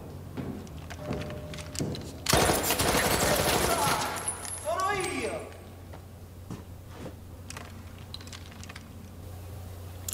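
Gunfire from a Peaky Blinders TV episode, a dense burst of rapid shots lasting about two seconds, followed by softer clatter and scattered clicks, heard mid-level with people talking around it.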